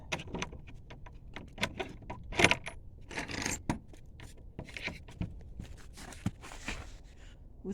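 A bunch of keys jangles close by at a farm barn, with scattered metallic clinks and rattles coming in irregular bursts, mixed with handling and footstep-like knocks.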